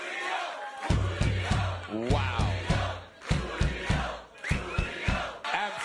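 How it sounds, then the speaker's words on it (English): A comedy club audience chants a name in loud, rhythmic unison, repeated beats of massed voices with brief pauses, while a voice briefly exclaims over it. "The crowd even ended up chanting his name by the end."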